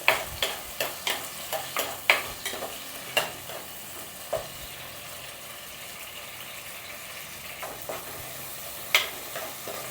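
Tomatoes with curry leaves frying in coconut oil for a fish curry, stirred with a series of sharp spoon scrapes and clacks against the pan over a soft, continuous sizzle, with no talking.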